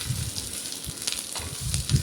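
Onion, coconut, ginger and garlic masala roasting in a pan, a soft steady sizzle with faint scraping stirs, close and alone with no talk.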